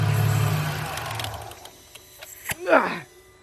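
A Mercedes SLK32 engine idles in a garage during a belt wrap kit install, a steady low rumble that fades after the first second or so, followed by a few faint clicks and a brief rising whine.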